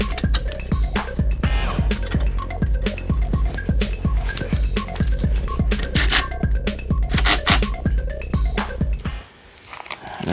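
Caliper bolts are threaded back into the rear brakes of a Honda Accord Sport, a dense run of close metallic clicks and ratcheting taps repeating rapidly for about nine seconds before stopping; no talking.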